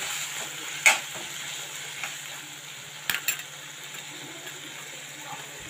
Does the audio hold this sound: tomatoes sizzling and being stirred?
yes